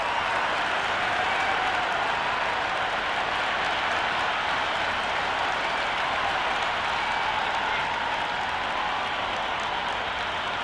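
Steady roar of a cricket crowd in the video game Cricket 26, a BBL T20 match between Brisbane Heat and Perth Scorchers about to begin. The broad, continuous cheering stays loud and even throughout, with no voices standing out.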